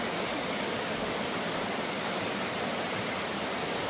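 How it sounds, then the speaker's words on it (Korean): Pearl Shoal waterfall in Jiuzhaigou roars as a dense, steady wash of falling water, loud and unbroken throughout with no voices. "네, 이곳이 진주탄 폭포입니다."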